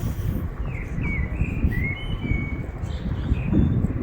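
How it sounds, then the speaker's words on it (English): Birds singing in winter, thin chirps and short whistled phrases rising over a steady low rumble of background noise, moderately distant. "Birds singing in the middle of winter."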